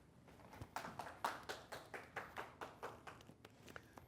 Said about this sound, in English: Let's have a round of applause for our first round winner